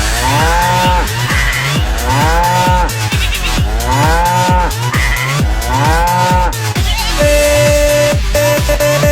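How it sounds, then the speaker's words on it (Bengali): A cow moos loudly and repeatedly at a cattle market before Eid al-Adha, long drawn-out lowing calls following one another in a steady rhythm, close by with no talking. "এই গরু কিনছি"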